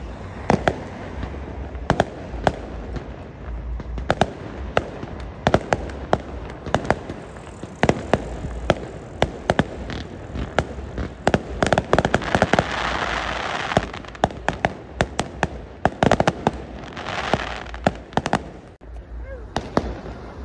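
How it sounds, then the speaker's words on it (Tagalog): Fireworks burst at night during a rainy ride, with many sharp booms and crackling pops spread irregularly across the stretch, some close and loud, with a few voices talking faintly between them. "Fireworks."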